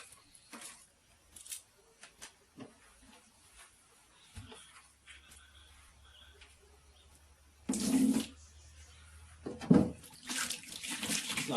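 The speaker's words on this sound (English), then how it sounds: "Give it a quick wash out just to get most that away" A worm farm container is rinsed out with water, heard as scattered splashes and handling knocks followed by two louder bursts of pouring or gushing water near the end.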